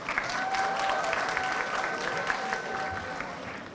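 An audience at a model UN conference closing ceremony gives a steady round of applause, dense and sustained, with a faint tone and a little crowd noise underneath.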